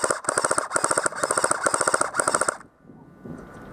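Airsoft grease gun firing a rapid full-auto burst of sharp, evenly spaced clacks for about two and a half seconds, loud and close, then stopping and leaving faint rustling and distant outdoor noise.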